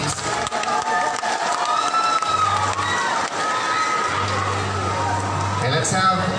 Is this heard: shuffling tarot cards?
no